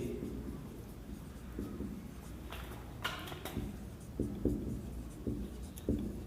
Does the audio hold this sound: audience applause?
no